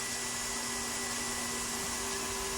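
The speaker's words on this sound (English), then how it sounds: "quickly place the plastic over the part and start the vacuum cleaner" A vacuum cleaner runs as a steady, fairly quiet broadband whir with a constant hum, pulling heated, softened plastic down over a mayo-jar mold for a WWII aircraft model part; no voices.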